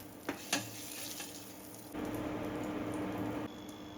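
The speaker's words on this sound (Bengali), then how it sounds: "ভালো করে কিছু সময় ডিমগুলোকে আমি নেড়ে চেড়ে ভেজে নিচ্ছি।" Eggs stirred and fried in a pan for egg bhuna, a soft sizzle with a couple of light scraping knocks early, then a louder steady frying hiss that drops back near the end.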